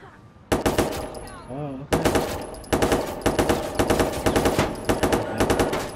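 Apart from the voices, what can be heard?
gunfire from a gun in the video game Watch Dogs 2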